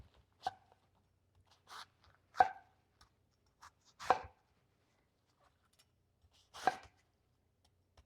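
A knife chops through a head of cabbage into big pieces, four or five crisp separate crunches spaced a second or two apart against near silence, close by.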